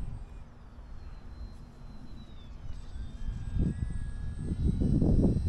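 UMX Waco radio-controlled model plane flying in wind, with a thin, whining electric motor buzz over heavy wind buffeting that grows louder and gustier toward the end.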